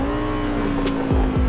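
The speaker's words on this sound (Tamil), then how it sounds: "அதோட அந்த கிராக்கிங் சவுண்ட் வந்து கேட்குது" A car engine in the video game GTA 5 hums loudly with a steady droning tone and quick falling pitch sweeps, with faint crackles from the exhaust near the end.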